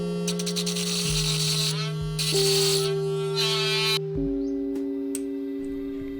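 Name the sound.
cutting a long steel needle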